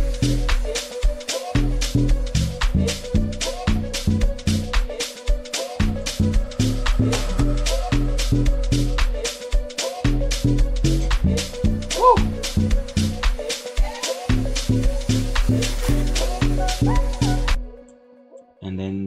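Amapiano drums with log drum played without chords, in a soulful style: a steady, loud loop of deep booming log drum notes, punchy kicks and crisp shakers and hi-hats, cutting off near the end.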